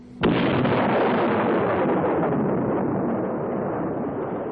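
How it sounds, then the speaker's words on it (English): A Soviet atom bomb detonates with one sudden sharp onset, then a heavy sustained rumbling roar that fills the space and slowly fades over several seconds. "The Soviets detonated their first atom bomb."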